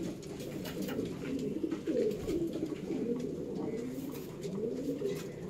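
Kalanka breeding pigeons coo steadily in low, rolling warbles, several birds overlapping close by in a loft with a faint hiss of background noise.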